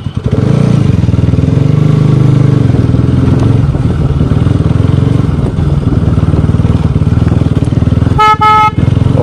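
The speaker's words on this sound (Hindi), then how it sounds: "जो स्टॉक आता है उसमें साथ सिंगल ही हॉर्न आता है इस बाइक में" A Bajaj Pulsar RS200 BS6 motorcycle engine rumbles loudly up close, then a quick burst of sharp honks from its stock single horn sounds near the end.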